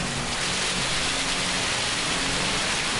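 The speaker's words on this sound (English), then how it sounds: "Just listen to the splash out there when the rain comes in" Rain and tyre spray on a wet race track in the racing game Gran Turismo 7, a loud, steady wash of hiss and splash that runs unbroken throughout.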